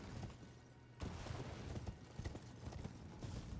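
A knight's cavalry horse in the Elden Ring Graceborne mod, its hooves clip-clopping in a quick steady gallop rhythm, faint and low, running alone without talk.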